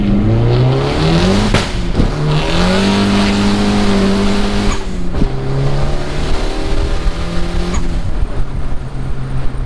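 A turbocharged Honda Accord accelerates hard from first into second gear, with the engine roaring up in pitch and then falling for the shift before it climbs again. The loud, close engine note carries brief crackles and no talk.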